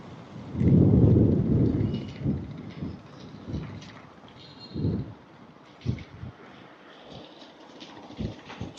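Strong wind blows outdoors in China, a heavy rumbling gust near the start that eases into softer buffeting and mic-brushing thumps, with no talk.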